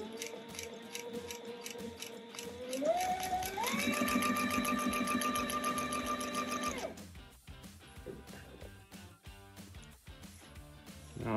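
A Sailrite Fabricator sewing machine with a leather presser foot stitches leather in a steady rapid mechanical chatter, its pitch climbing partway through, then stops abruptly and leaves softer clicks and handling noises, all close up and without talking.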